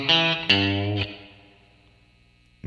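Distorted electric guitar with effects: a few picked notes, then a string bend that rings and fades over a couple of seconds before a new note starts. Close, moderately loud, with no voices.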